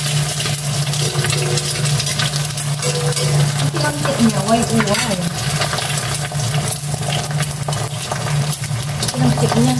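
A steady, dense hiss of oil frying in a pan runs throughout, with faint clinks and a low hum underneath.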